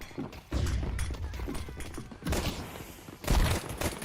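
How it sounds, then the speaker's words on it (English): A flashbang grenade goes off in a first-person shooter video game, with loud broadband bursts and thuds among busy gunfire-like game noise, no voice over it. "Throwing flashbang."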